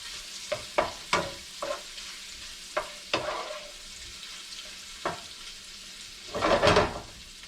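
Speckled trout fillets frying in a pan as they are shaken and pushed around, with sharp scraping knocks over a steady sizzle and a louder hiss toward the end.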